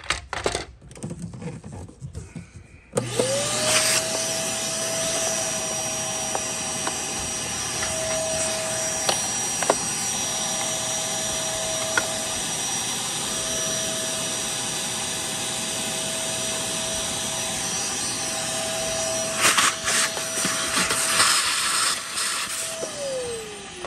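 Oreck U3770HH upright vacuum cleaner switched on after a few seconds of clicks and handling, then a steady loud motor whine that runs continuously, close by, with occasional rattles of grit and no talk.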